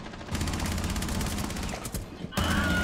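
Rapid automatic gunfire from a Rainbow Six Siege match crackles in a dense, close burst lasting a couple of seconds, then briefly drops out before firing resumes.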